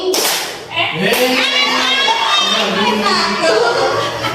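Children in a classroom clap along to a rhythmic clap chant, sharp claps landing in time under their sing-song group voices.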